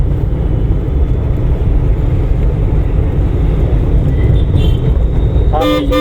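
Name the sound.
car horn honking during a driving lesson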